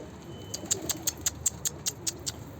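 Pigeons in a loft coo and flutter nearby, with a series of about a dozen short, evenly spaced bright ticks or wingbeats over a low murmuring background.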